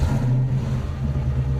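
A tuned Lotus-based car's engine running close by, a steady low rumble throughout that swells slightly as if revving after starting.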